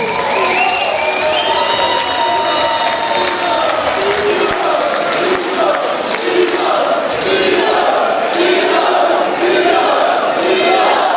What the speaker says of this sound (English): let's give both of these guys a round of applause for a pretty solid round of boxing